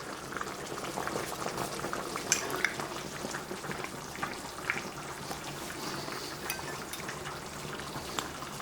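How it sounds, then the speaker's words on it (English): Heavy whipping cream poured into a pot of potato soup, a continuous close liquid bubbling and gurgling wash with small splashes throughout. "I'm gonna put in the heavy whipping cream and I'm gonna add about 6 ounces of this"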